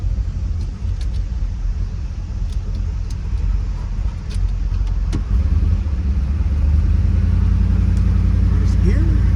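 A 1963 Ford Galaxie 500 with a 406 Tri Power V8 and four-speed pulls away in first gear, its engine rumbling steadily close up while keys jangle and people talk over it, the drone swelling louder toward the end.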